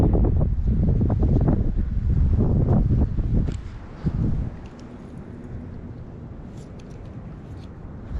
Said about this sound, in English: This wind isn't helping